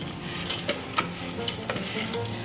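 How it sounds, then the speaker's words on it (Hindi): Vegetables fry in about a tablespoon of cooking oil, giving a steady close-up sizzle while a utensil stirs and scrapes through them in brief rhythmic strokes. "बस इसमें करेंगे सब्जियां फ्राई।"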